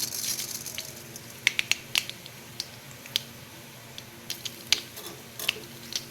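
Scattered sharp pops and ticks of mustard seeds bursting in hot oil in a pan, irregular and close, over a faint background sizzle.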